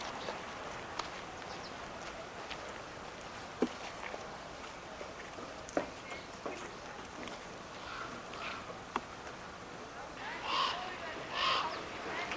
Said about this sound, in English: There's a big black raven.